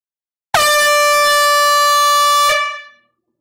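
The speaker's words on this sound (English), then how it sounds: "our third and possibly, but hopefully not the last, air horn of the night." A loud air horn blasts once at a live vinyl record sale, a single sustained harmonic blare of about two seconds that cuts off sharply and rings briefly into the room.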